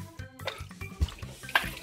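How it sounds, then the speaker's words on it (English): Water trickles, drips and splashes at an interactive water-play exhibit in a science museum, with a corkscrew lifting water from bottom to top; soft wet patters and small splashes come in an uneven, steady rhythm at close range, with no talking. "It's actually bringing water all the way from the bottom all the way to the top."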